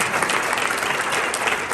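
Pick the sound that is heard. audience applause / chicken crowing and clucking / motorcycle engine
audience applause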